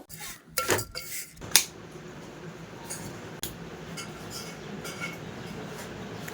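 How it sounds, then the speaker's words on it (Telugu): Vermicelli roasting in ghee in a pan over low flame, a few loud metallic clanks and scrapes of a utensil against the pan at the start, then quieter intermittent stirring over a faint background hiss. "ఇప్పుడైతే లో ఫ్లేమ్ మీద పెట్టి సేమ్యా అంతా కూడా గోల్డెన్ బ్రౌన్ వచ్చేదాకా వేయించుకుంటున్నాను"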